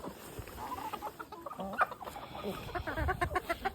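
Chickens cluck and murmur nearby in a steady stream of short calls, with faint background noise and no talking.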